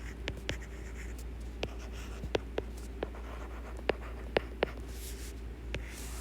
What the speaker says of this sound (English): So let me sketch that down here.